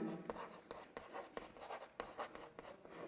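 Pen writing on paper during a maths lesson, a close, steady run of scratchy strokes and short taps that stop and start in a quick irregular rhythm, with no talking.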